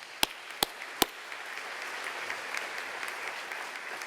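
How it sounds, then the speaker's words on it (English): Applause from the audience at a university fall convocation opens with three sharp, loud claps up close, then settles into a steady, moderate wash of clapping from the crowd. "We should give him a round of applause."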